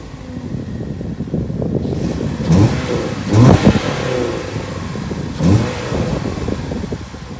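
A 2009 Chevy Cobalt LT pulls away on the road, its engine note rising in a few distinct revving surges over steady road and cabin noise, heard from inside the car.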